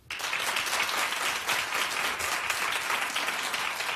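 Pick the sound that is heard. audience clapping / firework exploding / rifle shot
audience clapping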